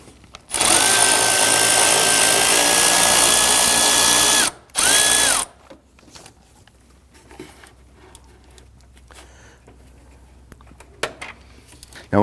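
A power tool loosens and removes bolts near the cooling fan assembly of a 2010-2019 Ford Taurus. It whirs loud and close for about four seconds, stops briefly, then gives one short burst before quieter clinks of handling.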